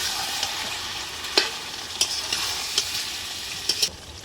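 Ground spice paste for mango chicken stir-frying in a pan, a low continuous sizzle broken by several clicking spatula scrapes, close and moderately quiet.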